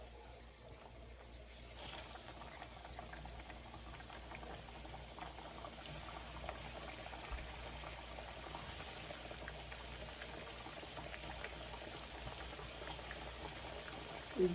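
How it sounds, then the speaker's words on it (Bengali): Potatoes for french fries bubble in hot oil with a faint, steady, fizzing simmer that barely changes throughout, heard alone without talk. "তেলটা গরম হয়ে গেছে এখন আমি আলুগুলো দিয়ে দেব"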